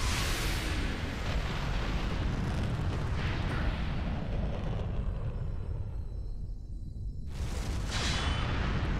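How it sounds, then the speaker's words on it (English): Satellite cannon blast in Asura's Wrath: a massive, continuous roaring explosion with a heavy low rumble, a brief lull, then another surge of whooshing blast, with no voices. "you have a satellite. Asura the satellite cannon"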